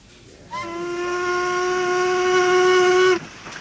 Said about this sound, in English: Did you hear that? Train whistle?